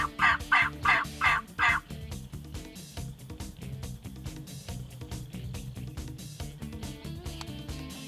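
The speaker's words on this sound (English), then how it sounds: "we just saw one gobbler chase a hen that way" A wild turkey gobbler gobbles loudly several times in quick succession close by, followed by a steady backdrop of other outdoor sound.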